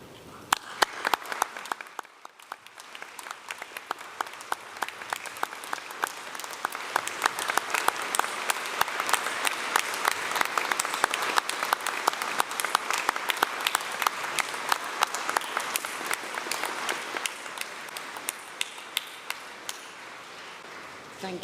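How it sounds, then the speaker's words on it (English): A graduation ceremony audience for a School of Film, Media and Creative Technologies in Portsmouth breaks into warm, sustained applause, a dense patter of many hands that swells for about twenty seconds before easing slightly. "join me in thanking everyone who has supported you on your journey with a warm round of applause"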